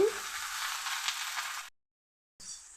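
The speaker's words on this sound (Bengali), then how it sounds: "এখন আমি বেগুন আর পেঁয়াজ কলিটা যে কেটে রেখেছিলাম ওটা দিয়ে দিচ্ছি" Cut eggplant and onion greens hit hot oil with already-frying onions in a pan, giving a loud burst of sizzling that runs steadily, cuts out, then resumes more quietly.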